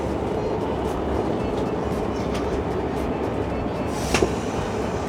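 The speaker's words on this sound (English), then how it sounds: "We're rocketing through the French countryside, about an hour and a half outside of Paris, on a TGV." Inside a TGV high-speed train crossing the French countryside, a steady loud rumble and rushing roar fill the cabin with faint rattles and a brief clunk near the end.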